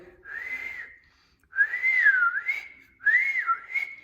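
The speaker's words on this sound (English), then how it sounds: "So he was whistling all over the cemetery." A person whistles a tune while walking through a cemetery: three clear, wavering phrases separated by short pauses, close and alone.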